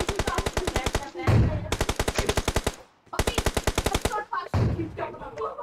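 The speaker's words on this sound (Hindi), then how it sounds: "ये खिड़की से मार रहा है या ऊपर से मार रहा है?" Automatic gunfire in the mobile battle royale game BGMI, fired in two long, rapid bursts with a brief gap between them and short pauses at the ends, loud and close.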